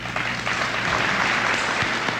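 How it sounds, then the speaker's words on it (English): An audience at the 1988 Wheaton Industries centennial celebration in Millville, New Jersey applauds international guests: a dense, steady burst of clapping from a large crowd that holds at even loudness throughout. "give them a big round of applause"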